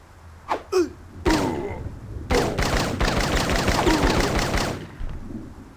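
Gunfire in the 1997 Blade Runner video game, heard as two sharp early reports followed by a long dense burst of rapid shots lasting a few seconds, loud and close.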